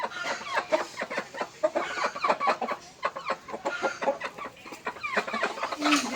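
Chickens clucking continuously, including a white and a black rooster close by, making busy, overlapping short calls with no pauses.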